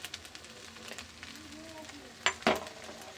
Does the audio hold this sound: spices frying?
yes